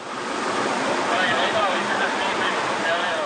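Floodwater rushing at the flooded Waikane Bridge during a storm, a steady, loud, broadband roar of churning water that holds constant throughout, with no voices.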